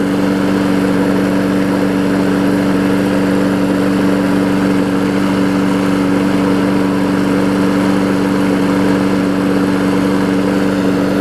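A small lawn mower engine, an older 5 hp Briggs & Stratton on a Weed Eater deck, runs steadily at idle, a constant droning hum with no breaks, close and fairly loud.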